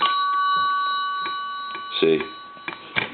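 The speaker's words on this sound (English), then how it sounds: "we just have another bell connected up to it just to show you for the video." A Kellogg wooden wall telephone with a Stromberg crank conversion rings an extra connected bell, a steady sustained metallic ring with faint ticking, close and fairly loud, with brief voice sounds near the end.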